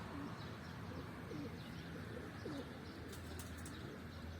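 Pigeons coo softly and repeatedly amid steady outdoor ambience while a flock circles overhead, with faint chirps and occasional wingbeats in the distance.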